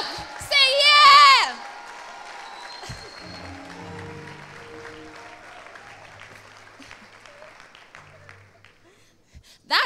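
A loud burst of clapping and shouting breaks out among graduates, then fades into quieter crowd murmur with scattered claps, before a final short burst at the end.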